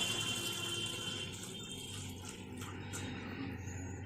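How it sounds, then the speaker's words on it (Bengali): Hot water poured into a pressure cooker for egg biryani with winter vegetables, a steady continuous splashing pour throughout, no talking. "গরম জল"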